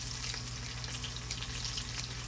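Salmon pieces with a little water on them sizzling in a hot pan, a steady crackling hiss with faint pops throughout and no voices.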